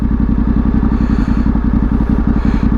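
Yamaha Tenere World Raid motorcycle running steadily while being ridden, a continuous close engine drone with low pulsing rumble and faint clatter throughout.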